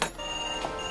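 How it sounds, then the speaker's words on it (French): A telephone rings inside a hair salon, with a steady electronic ringing tone sustained throughout the short moment amid background room noise. "Suzy, tu réponds au téléphone"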